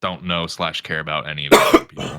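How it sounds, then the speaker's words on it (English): A person talks briefly, then a single short cough breaks in near the end. "was that a sneeze? It is a cough."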